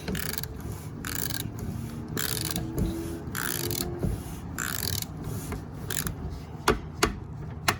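An oil filter on a 2018 BMW X2 xDrive 28i being tightened with a tool, giving a steady mechanical ratcheting and grinding at close range, ending in a few sharp clicks.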